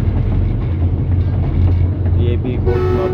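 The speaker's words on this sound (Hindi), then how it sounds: "ये एक जनरल वार्निंग विसल है" Train warning whistle sounded ahead of a level crossing gate near Kot Samaba station, short tonal toots rising over the continuous low rumble of the moving train near the end.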